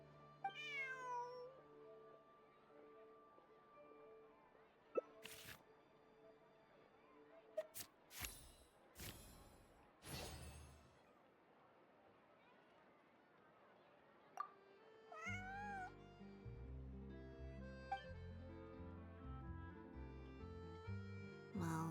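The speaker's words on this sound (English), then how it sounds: "This is my friend's cat." A cat named Bonnie meows several times in short, upward-bending calls, with a few louder knocks and thumps between them, near and clear; a low music-like backdrop comes in later.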